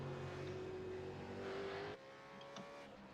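A V8 race car engine droning steadily as it enters the pit lane at Laguna Seca, a sustained tone that drops in pitch and fades slightly, heard faintly at a distance with no talk.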